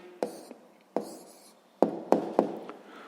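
Pen writing an answer on paper during a sixth-grade maths lesson: a quiet run of scratchy strokes punctuated by several sharp taps, close and alone with no talking.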